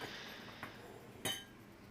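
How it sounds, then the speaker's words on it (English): A hot pan set down onto a trivet in a home kitchen, giving a faint scrape and one sharp metallic clink. "I'm just moving the pan onto a trivet so as not to burn my bench."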